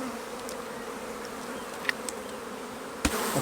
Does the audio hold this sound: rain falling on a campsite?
no